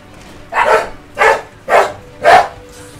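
Real dogs bark in the background of a Bioshock 2 play session, four evenly spaced, fairly loud barks about two-thirds of a second apart, each short and sharp, with a faint low hum between them and no talking.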